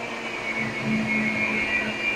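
A steady electric mixer whipping cream whirs continuously at a constant pitch, its motor humming without pause.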